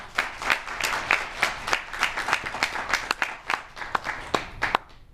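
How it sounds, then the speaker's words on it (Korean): Applause at the founding general meeting of a Korean esthetics leaders' association, a steady patter of many hands clapping indoors with sharp individual claps standing out, fairly soft and continuous. "우리 모두를 위해 축하의 박수를 부탁드리겠습니다"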